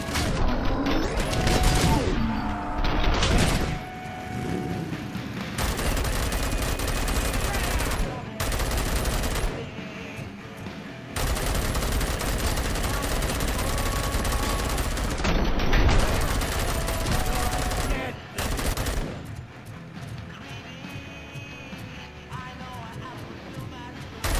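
Bursts of rapid automatic gunfire in RoboCop: Rogue City rattle loudly and close, broken by short pauses and crashing impacts, with voices occasionally heard amid the shooting.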